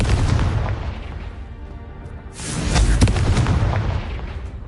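Confringo explosive spell blasts go off in Hogwarts Legacy, two loud booming bursts with rumbling low tails, the second swelling after a short dip.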